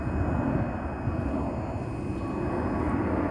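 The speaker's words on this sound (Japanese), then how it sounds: "ここは上には JAL が飛んでいます。 飛行機ですね。" A JAL airliner passes overhead near Itami Airport, giving a steady, loud, broadband roar that holds evenly for the whole stretch with no talking.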